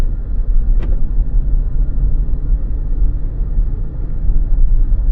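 A Ford Mustang drives along an open road, heard from inside as a loud, steady low engine and road rumble with no other sounds.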